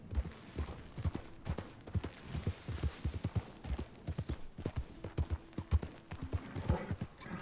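Horse hooves clip-clop at a steady riding gait in Red Dead Redemption 2, close and fairly quiet, with a brief whinny-like sound and faint talk in the background.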